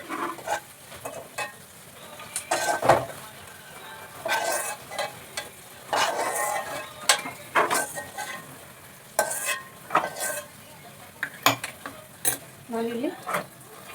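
Semolina (rava) being roasted in ghee, a spoon scraping and stirring around the pan with soft sizzling and clinks, moderately quiet and steady throughout.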